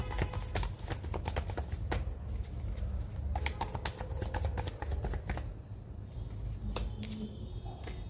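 Tarot cards being shuffled by hand, a rapid run of crisp riffling flicks and slaps that continues steadily for several seconds, close and clear with no talk.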